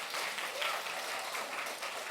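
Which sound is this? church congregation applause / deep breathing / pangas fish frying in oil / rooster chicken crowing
church congregation applause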